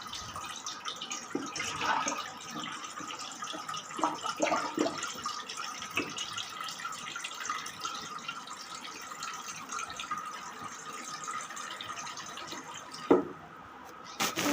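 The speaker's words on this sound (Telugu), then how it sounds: "క్యాన్లో నీళ్ళు పట్టుకుంటాను" Water runs from a tap into a can for boiling Maggi noodles, a steady mid-level splashing and trickling stream that continues throughout with a few small clunks, ending in a sharp knock near the close.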